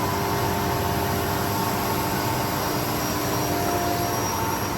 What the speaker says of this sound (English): We are face milling the part now.